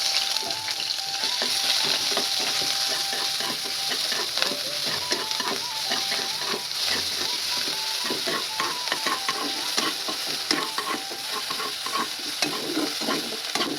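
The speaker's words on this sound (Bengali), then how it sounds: "তেলটা আমার গরম হয়ে গিয়েছে, এর মধ্যে আমি দিয়ে দেব পেঁয়াজ বাটা।" Onion paste frying in hot oil in a village kitchen, stirred with quick scraping strokes over a constant close sizzle, with no one speaking.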